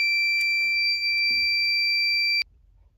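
A fire alarm system sounding during a board system test, a loud steady electronic alarm tone with a few soft knocks, cutting off abruptly near the end and leaving quiet room noise.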